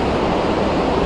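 Sautada waterfall in Marathwada running full after 150–200 mm of rain over two days, a steady dense roar of rushing water, close and loud, continuous without pause and with no voices.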